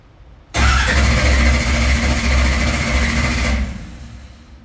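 A car engine is cranked and fires up abruptly, a loud sustained roar held for about three seconds before dropping back toward idle, close by.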